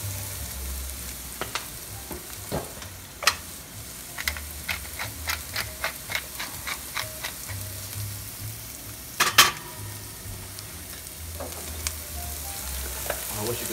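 Onions, garlic and crushed red pepper frying in a pan, a steady soft sizzle punctuated by a run of sharp clicks and taps from stirring.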